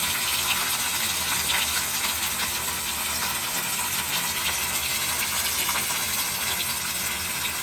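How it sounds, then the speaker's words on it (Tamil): Fish fries in a pan with curry leaves, giving a loud, continuous, close hissing sizzle that holds steady throughout with no voices. "இதில் மீன் கொண்டு வச்சு கொஞ்சம் தான் நல்லா வேக விடுவோம்"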